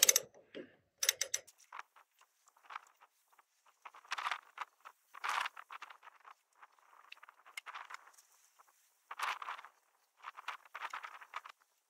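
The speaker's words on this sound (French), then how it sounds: "au lieu de prendre une pince, j'utilise ma fameuse clé à cliquer de 30 que j'ai commandée" A 30 mm ratchet wrench turns a nut on a threaded rod while an A-frame house is being raised, giving repeated short clicking bursts separated by brief pauses, moderately close and fairly faint.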